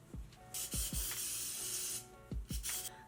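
Lysol disinfectant aerosol spray released in a sustained hiss, close and fairly quiet, with another short spray burst near the end and a few soft handling knocks around it.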